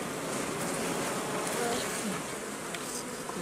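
Dense, steady buzzing of many Buckfast honey bees at an open hive during a spring inspection, a continuous close swarm drone with no talk.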